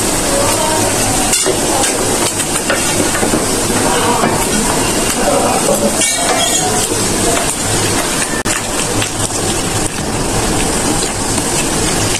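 Mango pieces drop into hot melted sugar in a pan, setting off a loud, continuous sizzle and crackle with occasional sharper pops and stirring scrapes throughout.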